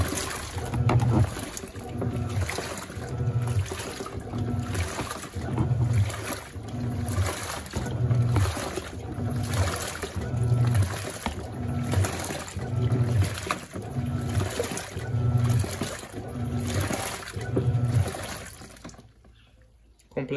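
A Panasonic NA-F140B6 washing machine tops up its water during a wash of work jeans, a steady rushing flow with a regular pulsing churn, which cuts off abruptly near the end; a person speaks briefly.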